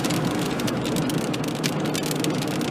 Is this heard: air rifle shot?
no